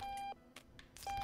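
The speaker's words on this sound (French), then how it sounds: "Éteignez-moi ce réveil là." Steady electronic alarm-clock beeps from the video game Octodad: Dadliest Catch, a long tone at the start and another at the end, separated by short bursts of game noise.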